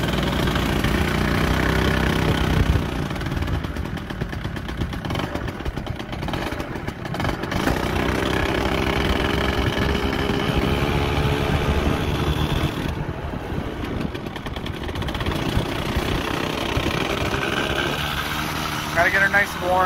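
Small Honda Spree motor scooter engine idling as it warms up, a steady continuous drone under heavy wind buffeting outdoors, with a voice talking over it at times.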